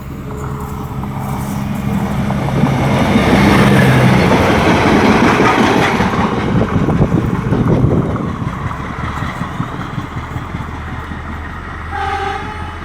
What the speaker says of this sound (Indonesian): Ya ini teman-teman, kita lihat kereta api.